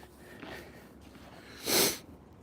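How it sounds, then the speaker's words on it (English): A single short nasal sniffle, close and fairly faint, rises out of quiet background noise near the end. "Sorry about my sniffles, folks."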